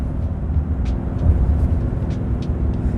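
A RAM 3500 with a high-output Cummins diesel pulls a trailer in tow/haul mode at highway speed, a steady low engine drone and road rumble from inside the cab, with light ticks over the top and no talking.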